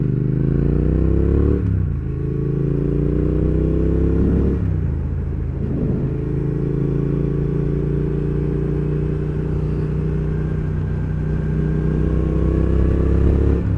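A Triumph Thruxton R motorcycle's deep, throaty loud exhaust rumbles steadily up close, rising and dropping as it revs through gears while riding.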